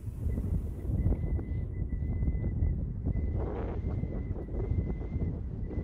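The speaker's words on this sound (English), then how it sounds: "was dealing with 15 to 20 mile an hour head crosswinds" Strong 15 to 20 mph crosswind buffeting the microphone on an outdoor disc golf course, a constant low roaring rumble with gusty surges throughout.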